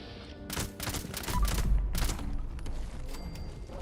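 The Eldritch Mark weapon firing in Fallout 76: a rapid string of loud, sharp shots in bursts, close and dominant, fading into trailing reverberation.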